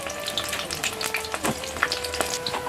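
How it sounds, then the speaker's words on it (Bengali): Pumpkin flower fritters fry in hot oil with a dense, crackling sizzle, close and steady, with bright pops and occasional stirring scrapes, and no voices. "আমার ঠাকুমা ভাজা হয়ে গেছে নামাচ্ছে বৈতাল ফুলের বড়া"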